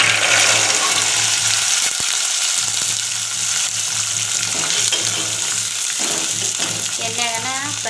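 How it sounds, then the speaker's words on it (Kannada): Chickpeas frying in hot oil with spluttering mustard seeds for a chickpea sambar, a loud close sizzle running throughout, with occasional stirring scrapes and brief pops. "ಎಣ್ಣೆಗನ ಫ್ರೈ ಮಾಡ್ಕೊತೀನಿ ರೀ."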